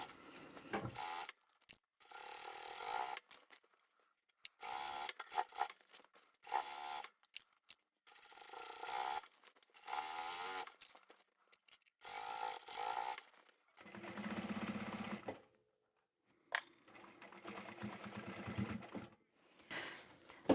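A sewing machine stitches along the bottom edge of a fabric supermarket tote bag, whirring in short repeated bursts separated by silent pauses, close and steady during each run.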